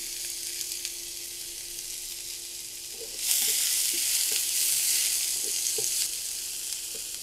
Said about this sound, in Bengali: এক চামচ মতন তেল দিয়েছি তেল খুব কম দিয়েছি আর দুটো পেঁয়াজ দিয়ে দিলাম